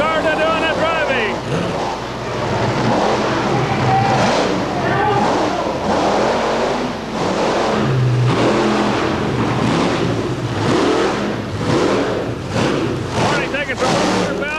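A 1990 Ford monster truck with its engine mounted behind the driver roars and revs in a spring jamboree competition in Rockford, Illinois, loud and continuous, with the engine surging again and again under an announcer's commentary and crowd noise.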